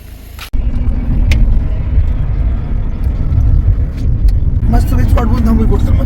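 A car is driven on an off-road route, its engine and tyres making a steady low rumble after a sharp knock, while people talk over it.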